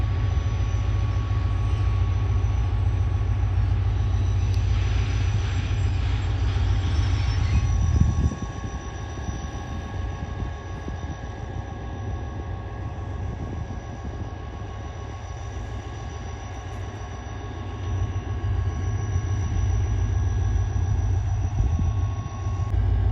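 A railway locomotive idles at a quiet station in Thatta District, a deep steady rumble that stays close and even for the whole stretch, with a slight shift in tone partway through and no voices.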